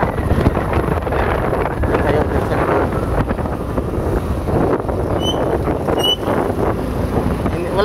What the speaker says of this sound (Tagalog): May ingay talaga sa hangin.